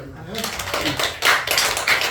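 A church congregation claps in praise during a Sunday afternoon worship service, a busy burst of hand claps that swells louder partway through, with some voices mixed in.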